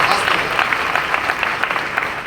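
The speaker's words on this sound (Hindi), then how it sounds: "जोरदार ताली होना चाहिए।" An audience at a company leaders' sharing event in Thane claps throughout, a dense, steady patter of hands close by and fairly loud.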